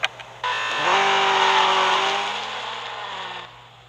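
The engine of a 2009 Honda S2000 GT in the racing game Real Racing 3, a steady high-pitched roar that swells quickly, holds loud for a few seconds, then cuts off.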